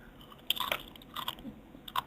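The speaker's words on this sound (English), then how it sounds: "I was chewing the chips" Potato chips being chewed close up, a few sharp crunchy bites spaced irregularly over a quiet background.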